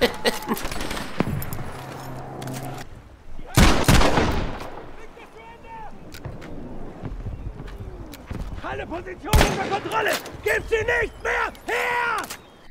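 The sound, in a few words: World War II double-barrel survival gun firing in a video game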